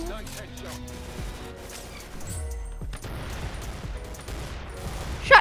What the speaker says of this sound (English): Shotgun. Boom, boom, boom.